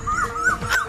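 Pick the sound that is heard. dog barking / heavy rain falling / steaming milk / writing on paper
dog barking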